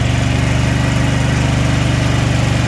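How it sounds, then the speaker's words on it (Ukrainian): Steady, loud engine drone of a WEIMA WM6000EI 6 kW inverter generator under a heating-coil load, a constant low hum with a fast regular pulse and no talk. "Вона почина працювати, але навантаження поки на генератор немає."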